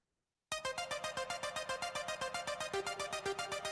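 A synth track plays after a moment of silence, with chorus, eighth-note and dotted-eighth ping-pong delay and a very large hall reverb. Bright pulsing notes repeat in a steady, even rhythm, and there is no talking.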